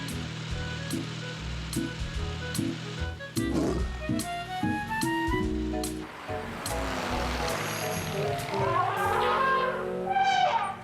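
A cartoon lion roars during an animated children's scene, a rough, throaty growl rising over busy background music and effects, loud and close, with rushing noise toward the end.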